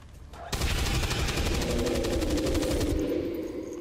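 A sustained burst of automatic gunfire from a soldier's weapon in the XCOM 2 video game opens abruptly after a brief quiet moment and rattles on loudly and steadily to the end.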